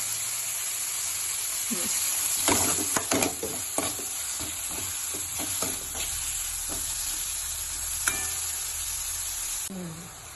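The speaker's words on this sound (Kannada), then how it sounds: "ಈರುಳ್ಳಿ ಹಾಕಿ ಡೀಪ್ ಫ್ರೈ ಮಾಡ್ಕೊಳ್ಳೋಣ ಚೆನ್ನಾಗಿ." Onions deep frying in a pan with cumin, asafoetida and salt, a constant close hiss of hot oil with a cluster of clattering stirs and scrapes in the middle, no voices over it.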